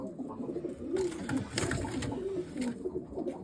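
Breeding pigeons coo steadily in a loft, overlapping throaty rolls close by over a rustling, noisy background with scattered thumps.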